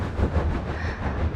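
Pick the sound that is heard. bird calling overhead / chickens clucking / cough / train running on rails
train running on rails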